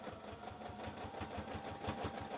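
A sewing machine stitches fabric in a fast, even mechanical chatter, a steady rapid rhythm of needle strokes heard close and continuous.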